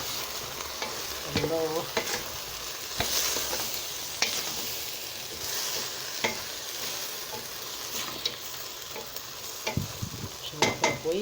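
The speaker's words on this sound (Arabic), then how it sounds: "شوحها كويس" Okra stir-fried in a pan gives a constant sizzle while a utensil scrapes and knocks against the metal now and then; a voice briefly exclaims.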